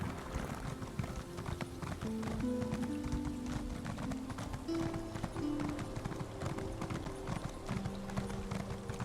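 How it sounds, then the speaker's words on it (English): Rapid rhythmic hoofbeats of a galloping horse in The Elder Scrolls Online, steady and continuous, over background music with sustained tones. "My horse is running out of stamina."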